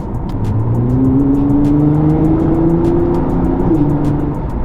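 A Nissan GT-R accelerates hard from inside the cabin, its engine note rising steadily through a gear and then shifting. Loud, close and continuous, with a faint ticking over the engine noise.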